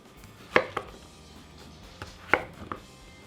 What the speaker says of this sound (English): We're just going to cut nice little strips out of this.